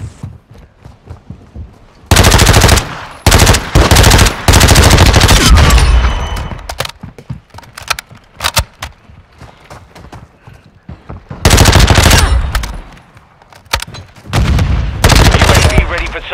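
Video game gunfire in loud, rapid automatic bursts, several long volleys broken by pauses and quieter stretches of battlefield noise.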